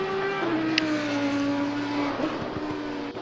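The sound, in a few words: race car driving in motorsport race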